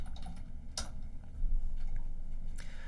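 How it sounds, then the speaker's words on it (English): A few clicks from a computer keyboard, sparse and uneven, over a loud low background rumble. "we'll type in Desmos here"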